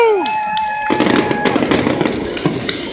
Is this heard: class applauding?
no